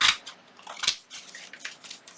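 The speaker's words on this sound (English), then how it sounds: "get your scissors, and just trim." Scissors trim magazine paper for a junk journal, making a few short crisp snips with brief pauses between cuts, close and clear with no talking.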